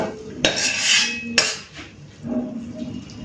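Cooked kochu loti with shrimp is scraped out of a metal pan with a serving utensil, producing two sharp metallic clanks followed by rasping scrapes and softer clinks, close and with no voices.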